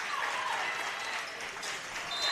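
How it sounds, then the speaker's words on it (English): A gym crowd at a volleyball match in Memorial Gymnasium claps together in a steady, even rhythm, a moderately loud wash of hands filling the hall with no clear voices on top. "clapping to the beat."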